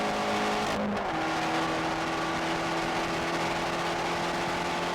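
A Fiat 500 Abarth's small turbocharged engine drones loudly from the cabin under load, a steady buzzing exhaust note with a quick dip as revs change shortly after the start, then holding a sustained pull.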